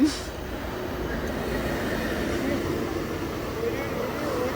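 A train rumbles past in a continuous, steady roar, with faint high metallic whines over the wheels; no one speaks.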